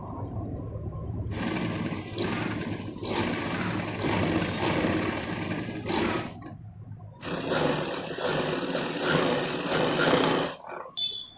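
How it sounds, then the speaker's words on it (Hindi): Sewing machine stitching blouse fabric, a loud, close, continuous mechanical whirring run that stops briefly around six seconds, then resumes before cutting off near the end. "सिलाई जो है दोस्तों हमको दोनों किनारे पे लगाना है"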